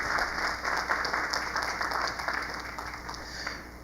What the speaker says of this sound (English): So a round of applause, please, for Bob Blakely.